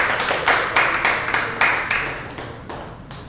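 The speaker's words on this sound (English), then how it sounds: "Give him a big round of applause" A round of applause for Dylan, a Shotokan karate student, at a class: fairly close clapping with sharp, sparse claps spaced regularly that fade slightly toward the end.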